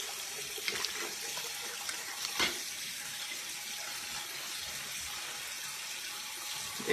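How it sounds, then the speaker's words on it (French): Lukewarm tap water runs and splashes faintly as a face is washed, a soft continuous trickle with a few small splashes. "Avec de l'eau claire, de l'eau, moi je nettoie avec de l'eau tiède."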